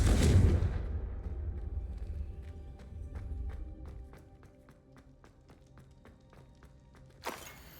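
A Confringo blasting spell cast in Hogwarts Legacy: a loud, booming burst right at the start that rumbles and fades over a few seconds, followed by quiet rhythmic footsteps, then a second sharp crack near the end.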